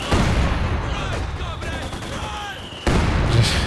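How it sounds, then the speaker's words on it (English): Heavy mortar and machine gun fire in a Company of Heroes 2 battle, a dense, continuous barrage of gunfire and booms with a sharp surge near the end. "Heavy mortars though, getting some nasty hits, and he's got a machine gun back here covering as well."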